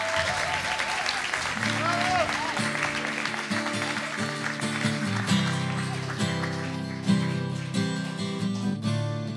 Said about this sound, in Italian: L'applauso!